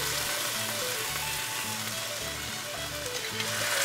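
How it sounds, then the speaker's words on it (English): Homemade tomato sauce hitting a hot pan while cooking a venison Parmesan dish, giving a steady close sizzle and frying crackle throughout, with low musical tones running underneath and no speech. "I'm going to go ahead and add my homemade tomato sauce from the summer."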